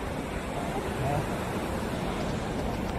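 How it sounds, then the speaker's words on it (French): A 47-metre waterfall in the Langouette gorges pours with a steady, even rushing roar that fills the whole stretch without pause. "Et on voit cette fameuse cascade là-bas"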